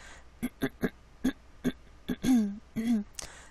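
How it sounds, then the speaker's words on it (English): A string of short throaty grunts and coughs, about ten sharp bursts, then a couple of longer rasping throat clears close to the mic. "I'm sorry I have to clear my throat so much"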